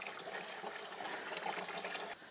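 Water runs steadily into a household shower tank in Arama, Poum, a faint continuous rushing and splashing flow with no talking.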